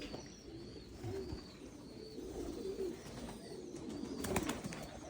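Domestic pigeons cooing in a pigeon loft, soft repeated low coos layered over a steady background hum, moderately close and fairly quiet, with a slightly busier burst of calls near the end.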